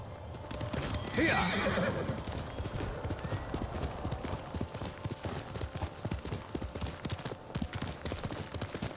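A horse in the video game Ghost of Tsushima gallops with a fast, steady clip-clop of hooves and gives one loud whinny early on, close and continuous over a soft background.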